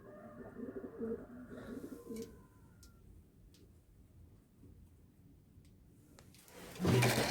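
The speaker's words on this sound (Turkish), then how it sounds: "Şimdi tekrar uçan güvercinlerimize bir bakalım." Pigeons coo softly and close by for the first couple of seconds. A quieter stretch follows, with a few short clicks and flutters, and a louder rustle of wings comes at the end.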